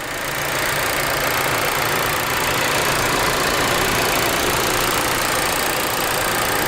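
A 2019 Volkswagen Jetta SEL Premium's 1.4-liter turbo four-cylinder idles steadily up close, a continuous even hum with no talk over it.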